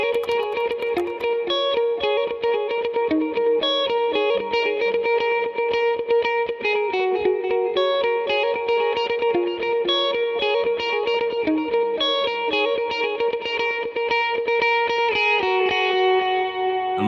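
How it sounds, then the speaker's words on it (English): Telecaster electric guitar with Lambertones Blondies pickups in the middle position, playing a continuous run of bright, rhythmic notes with effects such as echo or chorus, steady and loud with no talking. "I've always had a soft spot for that middle position on Tele pickups."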